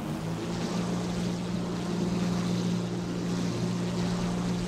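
A steady, loud engine drone from an A-4 jet aircraft in flight in the War Thunder video game, a constant low hum and wash of air noise without any speech.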